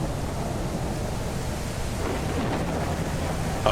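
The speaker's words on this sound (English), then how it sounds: "Boy, listen to that thunder." Thunder rumbles through a steady downpour in a stormy Mist Survival game world, a low continuous roll held under the hiss of rain.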